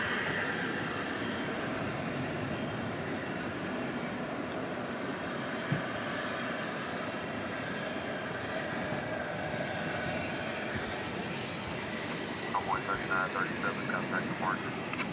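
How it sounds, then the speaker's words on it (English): An Airbus A321neo airliner arriving from Tucson at DFW at night gives a continuous broad jet roar, fairly close and steady, with some faint chirping and small clicks near the end. "You're looking at Flight 584 coming in from Tucson, Arizona, an Airbus A321"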